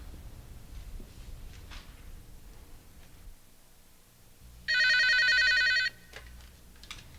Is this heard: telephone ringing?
yes